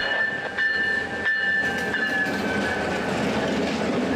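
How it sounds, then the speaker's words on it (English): A GO Transit commuter train arrives at a platform, rumbling along with steady track noise and a faint high squeal, no voices, fairly close by. "one of the GO trains we saw had 557 leading southbound"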